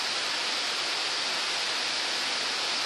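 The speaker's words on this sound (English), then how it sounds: "Oh God, now it's raining hard." Heavy rain pours steadily during a thunderstorm at the edge of Van Cortlandt Park in the Bronx, a dense, even hiss with no voices and no distinct thunder.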